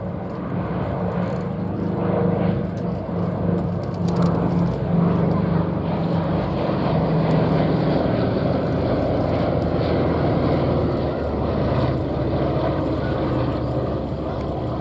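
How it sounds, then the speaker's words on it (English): A B-17 Flying Fortress named Sally B flying in formation with a P-47 Thunderbolt at an airshow, a steady loud drone of piston engines and propellers sustained throughout. "Stunning formation of the B-17 Sally B and the P-47, the Jug, the Thunderbolt."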